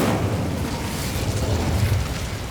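Incendio fire spell cast in Hogwarts Legacy: a loud, sustained roaring burst of flame with deep rumbling low end, continuous throughout and with no talk.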